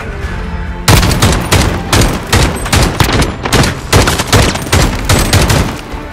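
Gunfire from Call of Duty: Modern Warfare co-op play erupts loud and close after a short near-silence, with rapid automatic bursts and sharp shots repeating in irregular clusters over several seconds.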